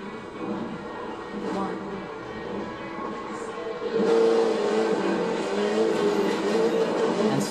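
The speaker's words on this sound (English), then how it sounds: "I don't have one, so I'm using Peugeot 3008" A Peugeot 3008 racing in The Crew 2, its engine a steady droning hum that swells louder partway through, with a person talking over it.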